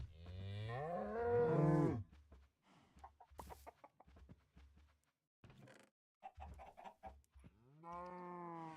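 Cows moo in the Minecraft video game, long drawn-out lows at the start and end with bursts of clucking and clicking in between, close and clear.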